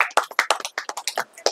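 Clapping from a small group welcoming guests at a Kanchipuram wedding silk saree shop, quick uneven claps close by with no talk over them.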